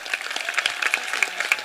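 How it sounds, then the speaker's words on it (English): Graduation ceremony audience applauding, a brisk patter of many hands clapping steadily and close by, with faint crowd murmur underneath. "Let's give them all a round of applause"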